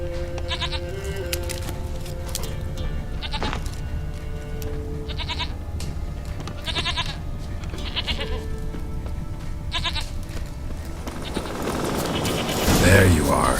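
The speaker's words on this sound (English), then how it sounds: "Here, goat." Goat bleating in The Witcher 3: Wild Hunt, several short bleats recurring at intervals over a steady game ambience, with a louder burst of noise near the end; a person talks in the clip.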